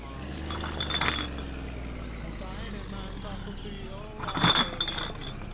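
Glass bottles clink and shatter in two short bursts as they are tossed in the driving game My Summer Car, under a low engine drone, with someone talking between them.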